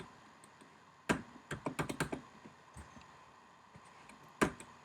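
A computer keyboard is typed on in short bursts, with a quick cluster of clicking keystrokes in the middle and a single louder key tap near the end, in a quiet room.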